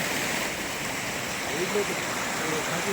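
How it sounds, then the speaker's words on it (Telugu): Floodwater rushes along a road in Green Hills Colony, Mallapur, Hyderabad, as a steady, loud, unbroken wash of flowing water that fills the whole moment. "ఏ విధంగా గ్రీన్ హిల్స్ కాలనీలో నీళ్లు ప్రవహించుకుంటూ"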